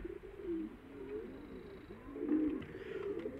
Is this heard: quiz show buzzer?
no